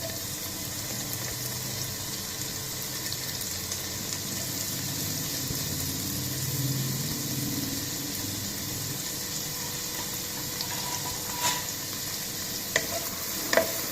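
Sliced onion and cashews fry in oil in a pan for prawn biryani, a soft, even sizzle humming low and constant, with a few light clinks near the end.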